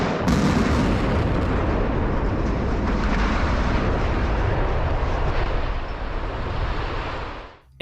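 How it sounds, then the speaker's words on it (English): Transformer explosions at night during a storm: a continuous loud roaring blast with crackling bursts that holds steady, then cuts off abruptly near the end. "a series of transformer explosions, illuminating the night with bursts of light"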